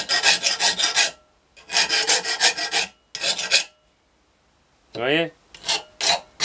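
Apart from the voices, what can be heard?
round grinding stone removing burrs from sheet metal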